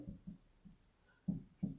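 A pen writes on paper in a quiet room, making a few soft, brief scratching strokes in an uneven rhythm, close by and faint.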